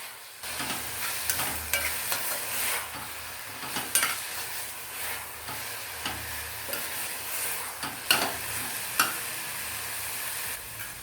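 Radish palya fries softly in a pan as pepper powder is mixed in, with a quiet continuous sizzle and scattered scraping and tapping stirring strokes, close and without talk.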